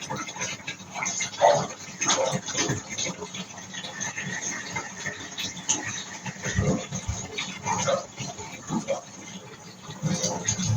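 Dogs inside a house give faint, scattered whimpers and patters over a steady hiss of background noise, with no clear barking.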